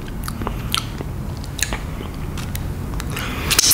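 Biting and chewing soft, custardy durian fruit, close and fairly quiet, with soft wet squishes and small crunchy clicks scattered through steady background noise.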